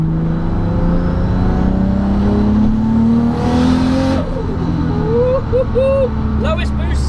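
A 1251bhp six-speed MKIV Toyota Supra on pump fuel at its lowest boost setting revs hard and accelerates up through its gears, a loud close engine roar with rising pitch that later drops into shorter blips, while a voice speaks over it.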